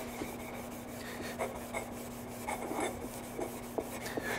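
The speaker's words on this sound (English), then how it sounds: "Now we could take a piece of Scotch-Brite, come back in here, and just hit it real quick like this." A metal engine part from a Bennche 500 motor is scrubbed with a Scotch-Brite pad in quick, repeated rasping strokes, close but fairly quiet, with no talking.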